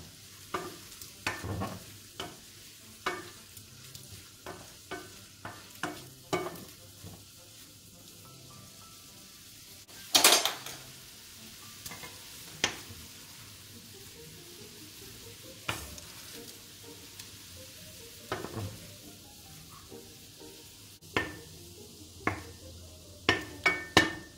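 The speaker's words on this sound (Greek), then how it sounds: "Αφήνουμε το αλκοόλ να εξατμιστεί και βγάζουμε τα μύδια" Mussels cook in a pan as alcohol evaporates off them, giving a quiet, steady sizzle broken by scattered clinks and scrapes of a utensil against the pan, with one louder clatter midway.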